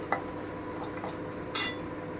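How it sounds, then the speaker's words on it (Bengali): Onions frying in a pan with garlic for Piyali fish charchari: a low, steady sizzle under a few soft utensil clinks, then one brief, louder scrape or hiss near the end. "এবারে পেঁয়াজটা আমি একটু ভেজে নেব"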